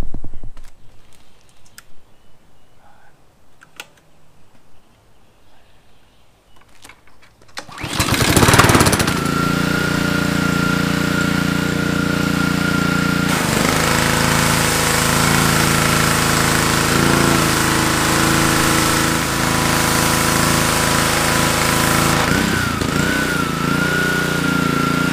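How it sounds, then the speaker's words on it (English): A gas pressure washer's engine, fitted with a replacement pump, starts after a few quiet seconds and then runs at a loud, steady drone with a few small shifts in pitch. "Our pressure washer is now working again and is functional"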